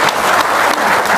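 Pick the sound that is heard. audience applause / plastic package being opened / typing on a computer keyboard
audience applause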